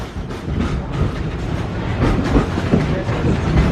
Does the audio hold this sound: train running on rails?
yes